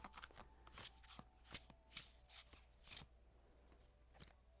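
Tarot cards are handled and mixed close by, making a run of crisp, papery riffles and flicks at irregular intervals. A quiet room sits behind them.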